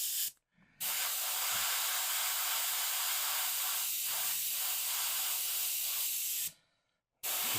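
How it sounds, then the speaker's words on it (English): An airbrush sprays orange and red paint onto the blade of a miniature, giving a steady loud hiss that runs for several seconds, cut off briefly near the start and again near the end. "with the airbrush"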